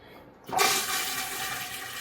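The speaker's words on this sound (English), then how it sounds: "and then I flush" An RV toilet flushes with a sudden rush of water that starts abruptly after a quiet moment and keeps running steadily, close and fairly loud.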